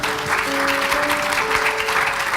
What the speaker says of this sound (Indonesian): Tepuk tangan yuk teman-teman yuk.